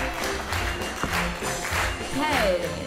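Audience applause rising in a hall, a steady patter of clapping hands with a few voices and calls mixed in, fairly close and continuous.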